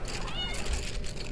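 A cat meows in a short, faint, wavering cry over a humming background.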